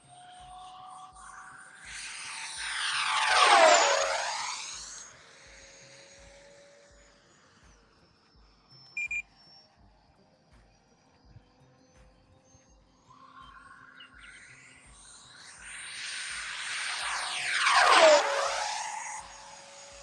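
An E-flite F/A-18D RC jet with a new fan setup makes two loud passes over a runway. Each time a rising, then falling whine swells as it nears, peaks overhead and fades away, with quieter stretches between the passes.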